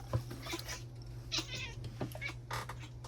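A cat meows several times in short, close cries, each brief and separated by small pauses over a low steady hum.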